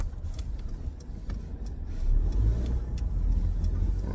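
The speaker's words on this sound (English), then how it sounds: "It's traffic out the wazoo." Road traffic with cars passing nearby, a continuous broadband rumble of engines and tires that swells louder midway through and stays steady, with no talking.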